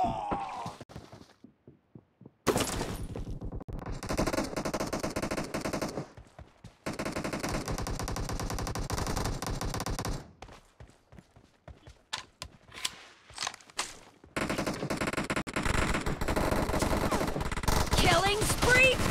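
Automatic gunfire in a BGMI team deathmatch, with rapid, loud, close machine-gun bursts separated by brief pauses and continuing steadily through most of the clip.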